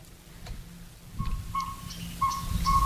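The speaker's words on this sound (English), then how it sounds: "So each owl, when you press the button, you'll be able to hear what it sounds like." Recorded northern pygmy owl call played from a museum exhibit button, a series of short, clear whistled toots repeating at a steady pace after a brief quiet start, fairly close and distinct.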